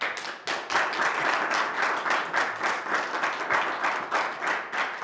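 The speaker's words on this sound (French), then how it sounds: "On vous applaudit." A parish event audience in Angoulême applauds after a volunteer's testimony, steady broadband clapping across the whole span with slight pulses in intensity, no talk over it.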